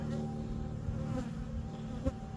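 Honeybees at a hive kept without winter insulation, buzzing in a steady, dense drone with individual bees passing close by, continuous and moderately loud with no talk.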